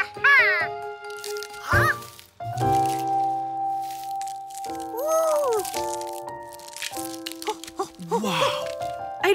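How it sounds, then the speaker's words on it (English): Cartoon duck eggs hatching in a Curious George episode: small cracking and crunching shell sounds mix with quacks and bright musical tones, with voices briefly heard. "A duck is hatching right before my very eyes."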